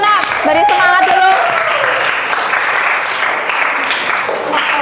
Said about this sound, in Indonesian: beri tepuk tangan dulu, Nak